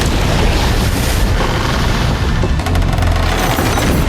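Heavy cannon fire in a Pirates of the Caribbean ship battle scene, a dense continuous roar of booming blasts and crackling bursts at full loudness with no pauses.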